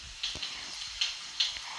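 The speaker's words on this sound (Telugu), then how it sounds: "ఆయిల్ హీట్ అయిన తర్వాత పోపు గింజలు అయితే వేసుకోండి" Tempering seeds crackle in hot oil in a pan for a baby potato curry, a soft steady sizzle broken by four sharp, evenly spaced pops, with no talking.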